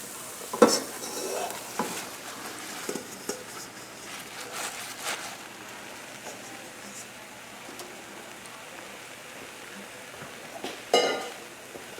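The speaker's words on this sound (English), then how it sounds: "Now that the onions are translucent, we will add the baby spinach." Baby spinach and translucent onions cook in a pan with a soft, steady sizzle. Utensils stir and clink against the pan in scattered knocks, loudest near the start and again near the end.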